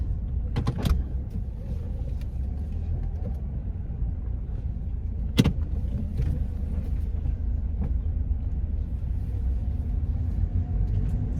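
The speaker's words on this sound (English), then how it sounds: "when I say there's a gazillion cars, there's a gazillion cars" Steady traffic rumble heard from inside a car moving through a busy park area, with passing vehicles and a few sharp knocks over the continuous road noise, no talking.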